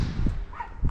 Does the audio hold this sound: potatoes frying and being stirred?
no